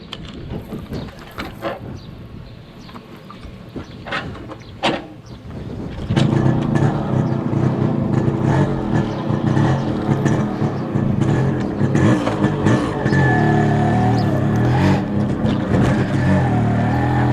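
A Yamaha RX100 two-stroke motorcycle engine buzzes and revs, then swells into a loud, constant high-pitched drone with wind rushing past as it accelerates away.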